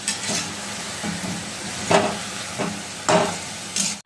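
Moong dal tipped into a hot pan for shepu bhaji and stirred, with a continuous frying sizzle broken by several sharp scraping stirs of the spoon against the pan.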